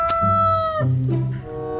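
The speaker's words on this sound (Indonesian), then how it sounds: "Ini ada ayam berkokok." A rooster crows at a place with many animals, a loud, close cock-a-doodle-doo with a rising and falling pitched call that fills the short moment.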